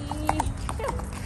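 Horse hooves clip-clop during a trail ride in Livingstone, Zambia, as a steady, close rhythm of hoof strikes with a few voices and faint background sounds mixed in.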